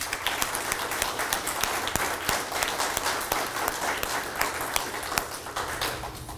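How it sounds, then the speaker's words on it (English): A city council audience in San Marcos claps steadily for several seconds, a dense, fairly distant wash of many hands that holds even throughout and fades slightly at the end. "Give yourself a round of applause for what you do."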